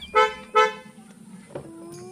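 A car pulls out while its horn gives two short honks, loud and close, followed by a fainter engine note as it moves off.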